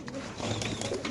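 A racer pigeon coos softly at a pigeon farm, its low murmuring call set against a dense, noisy background of other birds and activity.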